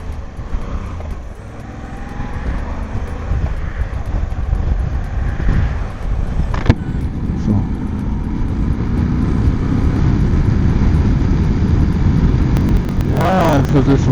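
Engine of a 2024 Moto Guzzi V85TT motorcycle riding in fifth gear at low revs, a steady rumbling drone under wind noise that gradually grows louder, with someone talking over it.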